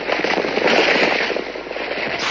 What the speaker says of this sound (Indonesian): Sepertinya suara tanah longsor.